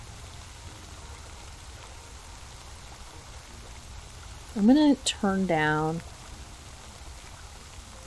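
Ambient rain in the Spirittea video game, a soft, steady hiss running throughout the clip, with someone briefly speaking over it partway through.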